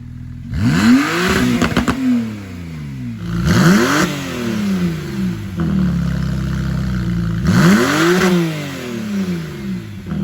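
A 2017 Porsche 911 Carrera engine revs up sharply three times through its exhaust, each rising and falling blip separated by a throaty idle, loud and close.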